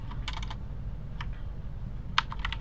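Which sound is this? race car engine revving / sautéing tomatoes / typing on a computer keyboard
typing on a computer keyboard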